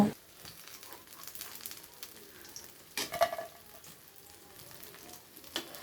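Soybean chunks fry in oil in a pan, giving a steady low sizzle with occasional stirring scrapes and a louder burst around the middle, with no voices.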